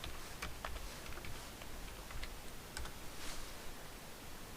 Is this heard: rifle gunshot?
no